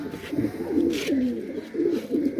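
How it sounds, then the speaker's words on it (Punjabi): Pigeons of the Punnu breed coo in soft, low repeated phrases close by, several rolling calls over a quiet background. "ਇਹ ਕਬੂਤਰ ਵੀਰੇ ਆਪਣਾ ਪੁੰਨੂ ਦੇ ਕਬੂਤਰਾਂ ਦਾ"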